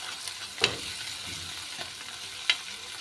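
Ground masala for a black pea (chavali) curry sautéing in a pan: a faint, steady sizzle with a few sharp spoon clicks against the pan, quiet and close.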